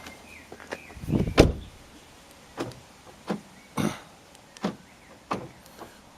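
A car's central locking unlocks with a repaired, previously broken key: a series of short, sharp mechanical clunks and actuator clicks at irregular intervals, close by, with no talking.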